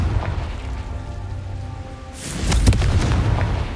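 Confringo blasting spell in Hogwarts Legacy: a quiet crackling lead-in, then a sudden loud booming burst with a sharp crack of impact and a rumbling, debris-filled tail that lingers.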